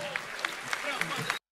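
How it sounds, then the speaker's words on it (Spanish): Crowd applause for a rapper at a Liga Barrabase freestyle battle, a dense, steady wash of clapping with a few sharper peaks, lasting over a second before cutting off abruptly. "fuerte el aplauso"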